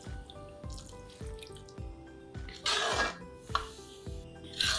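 A cup of water is poured into a thick chicken curry gravy in a pot, giving a steady pouring and splashing wash with soft clinks of the pan. Quiet, close and without voices.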